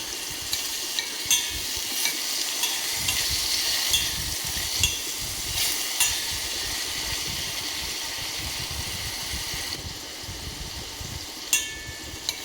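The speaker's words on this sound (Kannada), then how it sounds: "ನಂತರ ಹಣ್ಣು ಟೊಮೆಟೊ ಕೂಡ ಹಾಕಿ ಅವು ಕೆಂಪಾಗುವ ಹಾಗೆ ಚೆನ್ನಾಗಿ ಬೇಯಿಸಬೇಕು." Tomatoes and green chillies cooking in a pan for tomato palya, a steady close sizzle with repeated stirring scrapes throughout and no speech.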